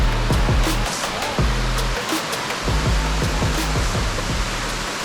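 Standing at the top of a monsoon-season waterfall, loud, continuous rushing water roars without pause, with low gusty wind buffeting thumping in bursts over it.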